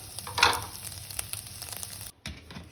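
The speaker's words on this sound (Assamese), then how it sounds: "এয়া ডিমৰ ভুজিয়া বনাই হৈ গৈছে।" Scrambled egg bhurji sizzling in a pan, a close crackling fry with stirring clicks and a brief scrape near the start, then a short gap.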